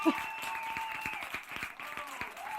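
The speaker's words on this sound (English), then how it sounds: "Let's bring her on with wild applause" A studio audience claps as a guest comedian is brought on, moderate and somewhat distant, with a bright tonal whoop or cheer over it and a voice coming through.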